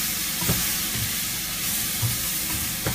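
Onions sizzle steadily in a hot Rockcrok pan while a utensil stirs them, a dense frying hiss with a few soft scraping knocks spread through it, close and with no talking.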